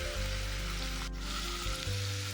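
Onion-tomato masala with salt, red chilli and turmeric powder sizzles steadily in a pan for a Kathiyawadi dhaba-style vagharelo rotlo, a close, continuous frying hiss with a brief stir near the end.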